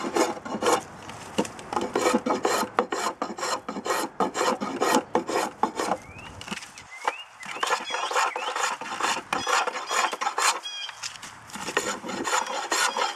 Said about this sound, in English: You come down to the spoke shave, and it just allows you to take a very controlled shaving.